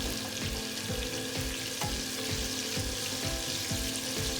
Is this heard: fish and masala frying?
yes